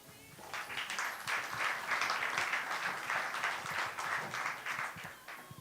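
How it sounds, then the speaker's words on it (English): Audience applause greets a guest at a fireside chat in Tel Aviv: a moderate, even round of clapping from a seated crowd, somewhat distant and soft, lasting a few seconds before tapering off. "Round of applause."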